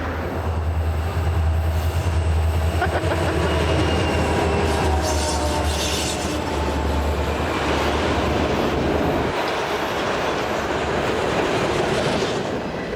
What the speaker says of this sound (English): the Train Time team catches this auto-rack train in 2 locations